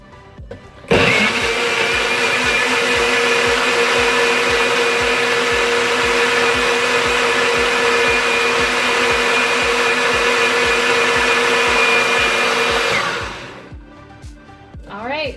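A countertop blender whirs loudly and steadily for about twelve seconds, blending a coffee smoothie made with almond milk and Greek yogurt, then winds down as a voice speaks faintly.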